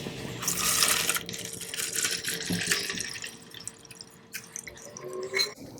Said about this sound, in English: I'm just going to simply pour my oils into it